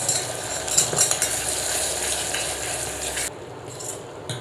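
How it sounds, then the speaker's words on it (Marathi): A thick spice paste for Kolhapuri mutton curry sizzles and roasts in a pot while a spoon stirs and scrapes against the metal; the hiss drops off abruptly near the end. "इथे आपला मसाला जो आहे तो आता भाजला गेलेला आहे"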